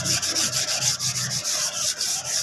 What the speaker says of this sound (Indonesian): jadi perlu digosoi sampai halus seperti ini